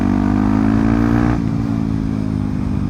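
A Kawasaki motorcycle ridden on an open road near a flyover under construction, with a loud, steady engine drone close by that shifts in pitch partway through.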